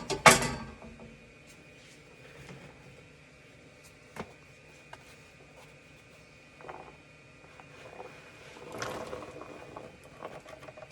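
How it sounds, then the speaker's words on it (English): A pot of potatoes bubbles at a boil, with a loud splash or clatter at the start and then soft, irregular bubbling and occasional clinks throughout, under a faint steady hum. "All right, it's boiling"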